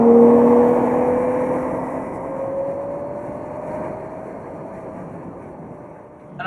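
A Ferrari F12 Berlinetta with its 730-horsepower V12 drives past, its engine note fairly loud at first as a steady rising tone, then fading and holding a lower drone with no talk.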